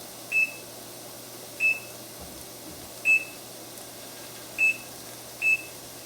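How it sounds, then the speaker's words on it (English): A kitchen timer gives five short, evenly spaced electronic beeps while being set, each a brief high chirp over a quiet room hum. "I'm going to turn this timer off and start it off, and I'm going to set it for"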